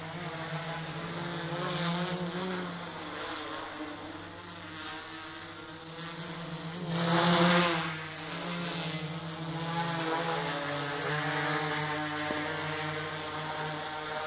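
A DJI Inspire 1 drone, recently repaired and modified, hovers close by with a steady, loud rotor whine and buzz that swells briefly midway, with no talking.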